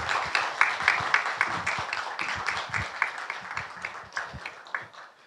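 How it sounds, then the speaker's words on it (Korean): An audience at a book concert claps warmly with dense, continuous applause that gradually thins out over a few seconds. "여러분 뜨거운 박수로"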